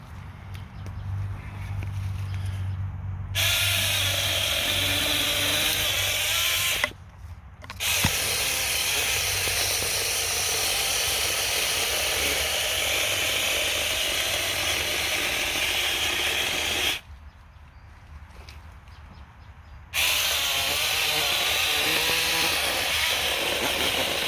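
A 6-inch lithium battery chainsaw cuts through wood with a loud, steady buzzing whine that runs continuously, broken by two short pauses where the motor stops before starting again.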